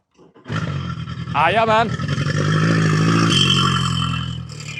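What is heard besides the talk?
Hidea 60 hp EFI outboard motor starting up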